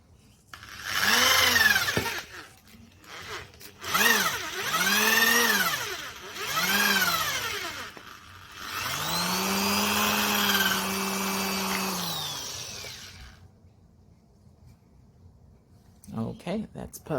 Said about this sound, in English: the first step is I need to drill a hole on that piece of wood right there to fit this axle